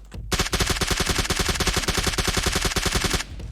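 Rapid automatic gunfire in the mobile battle-royale game PUBG Mobile: one continuous, loud, close burst of evenly spaced shots lasting about three seconds, then it stops abruptly.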